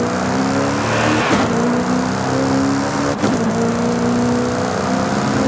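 A loud, sustained McLaren P1 V8 engine in the video game Forza Horizon 5 drones at high revs, its tone shifting slightly, broken by two brief sharp whooshes like gear changes.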